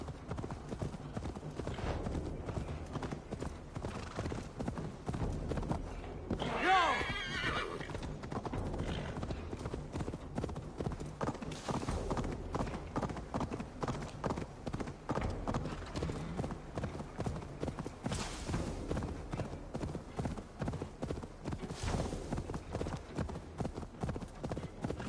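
Horse hooves clip-clop in a steady, continuous trotting rhythm in the video game Assassin's Creed Valhalla, with a brief whinny partway through.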